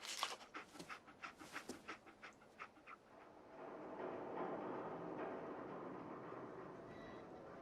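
Dogmeat, the dog companion in Fallout 4, pants in quick rhythmic breaths close by, then fades into a low rumbling game ambience.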